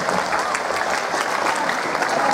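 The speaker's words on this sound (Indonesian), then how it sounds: "Tepuk tangan untuk kalian." Students at a junior high school assembly in Jambi clap together, a dense continuous burst of applause from a crowd filling the room at an even level.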